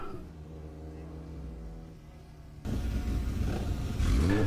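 A 1975 Lola 342 Formula Ford racing car engine roars up loudly and revs harder as it pulls away, a deep rising rumble that swells toward the end.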